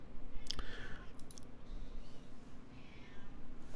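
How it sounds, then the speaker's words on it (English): A cat gives a short, harsh meow near the start against a low background hum, followed by faint scattered clicks and quiet rustling. "that cat has an ugly meow"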